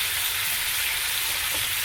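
Masala frying in a pan for an egg dish, a dense, loud, even hiss of sizzling oil heard close up and alone for a couple of seconds.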